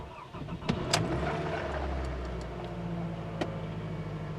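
A 2002 Toyota Camry with a check engine light on cold-starting at 58 degrees: a short crank and catch, then a steady low engine idle with a few clicks on top, recorded close by.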